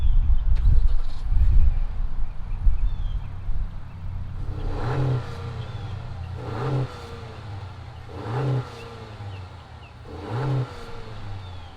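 A 2020 Honda Accord Sport with a 1.5 liter turbocharged engine cranks and fires after some handling noise, then settles into a quiet idle broken by four evenly spaced blips of the throttle.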